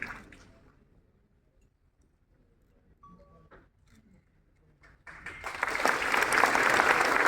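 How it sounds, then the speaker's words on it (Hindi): Applause from a festival audience welcoming a guest at a book festival in Srinagar, starting faintly, then swelling into loud, sustained clapping from a large crowd. "जोरदार तालियां।"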